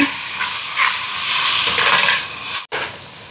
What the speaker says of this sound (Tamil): இப்போ வெங்காயம் எல்லாம் வதங்குது பாருங்க தக்காளி பழம் சேர்ப்போம்